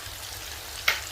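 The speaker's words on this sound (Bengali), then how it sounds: "আদা বাটা দিয়ে দিচ্ছি।" Ginger paste hits a hot pan while cooking a radish dish, a quiet background hiss followed by a short, sharp sizzle burst near the end.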